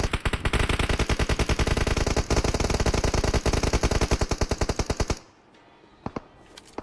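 Rapid automatic gunfire from a video game rattles loudly and evenly for about five seconds, then stops, leaving a couple of faint isolated clicks.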